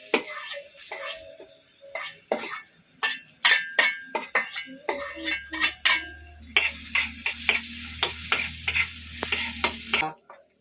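Garlic sautéing in cooking oil for vegetable lumpia, with repeated sharp clinks and scrapes of a utensil stirring against the pan and a brighter, steady sizzle building in the second half, close and fairly loud.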